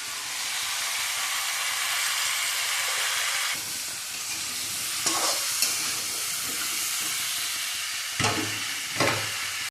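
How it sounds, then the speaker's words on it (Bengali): Malabar spinach chorchori with potato and carrot stir-frying in a pan, a steady broadband sizzle with occasional clatters of stirring, close and fairly loud, no voices. "এই যে মা চচ্চড়ি করছে এগুলো আলু দিয়ে, গাজর দিয়ে।"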